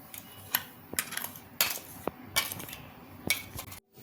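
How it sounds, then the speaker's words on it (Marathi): Kulfi premix of milk powder and cornflour being transferred into a vessel, with a series of sharp metallic clinks and scrapes of a spoon against utensils, spaced irregularly, close and clear with no talk. "आता मी त्याला एका भांड्यात काढून घेतेय।"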